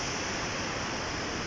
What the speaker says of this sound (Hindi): बहुत ही सुंदर प्राकृतिक झरने।